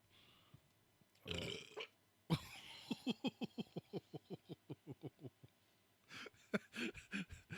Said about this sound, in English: Oh God, I got burp. Well, here it comes.